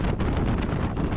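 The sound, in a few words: storm wind gusts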